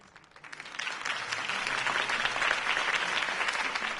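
Crowd applause in Batman: The Telltale Series after a campaign speech for Harvey Dent, swelling from a few claps into steady, dense clapping that holds loud to the end.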